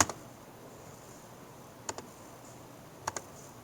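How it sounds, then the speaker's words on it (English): A computer keyboard's delete key is tapped during video editing, leaving a few faint, sharp clicks, one at the start and then two quick pairs, in an otherwise quiet room. "push the delete key"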